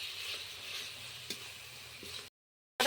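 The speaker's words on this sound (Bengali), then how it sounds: "আমার মশলাটা ভাজা হয়েছে" Ground turmeric, coriander, cumin and chilli powder fry with a spice paste in a pan, giving a soft, even sizzle with faint stirring scrapes that cuts off abruptly near the end.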